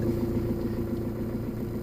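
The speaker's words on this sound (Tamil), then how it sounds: "இன்ஜின் நைஸாக இருக்கு" A steady, low engine idle hums continuously at close range with a regular throbbing pulse and no other sounds.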